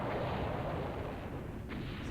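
Bombs detonate against a boss in the Silent Bomber video game, a dense rumbling barrage of blasts that stays loud and continuous throughout.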